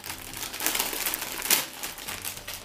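A crinkly bag of bacon-flavoured snacks is opened up close, giving a few seconds of bright, irregular crackling and rustling with a louder crunch near the middle.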